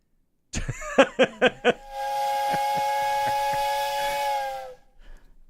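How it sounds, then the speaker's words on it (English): A Thomas the Train toy whistle gives four quick toots, then one long, steady, reedy blast lasting a couple of seconds before cutting off. "I had to find my Thomas the Train whistle for Boutron Herdon."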